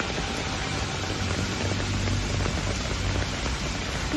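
Heavy rain pours down in Noida as a dense, constant hiss of falling water with no letup.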